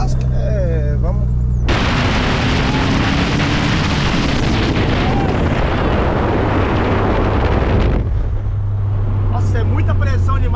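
A turbocharged VW Gol accelerating hard, a loud, roaring engine surge that builds over several seconds with a rising tone, then cuts back, with people talking before and after the run.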